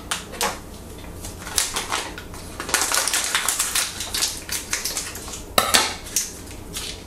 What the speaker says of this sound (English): next thing I'm going to do is take my brewing sugar. Came with the kit. And we're just going to cut this open.